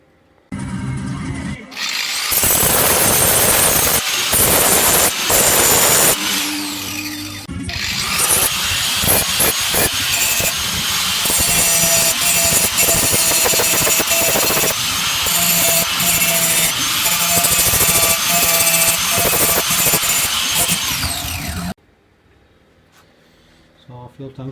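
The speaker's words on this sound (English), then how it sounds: "now I'm going to tack weld that in, grind it all flat so that fits in nice and smooth" Power grinding of a tack-welded fuel tank section for a Honda CBR929RR SC44 turbo build, a loud, harsh continuous abrasive roar lasting about twenty seconds with brief dips, then stopping abruptly; someone talks around it.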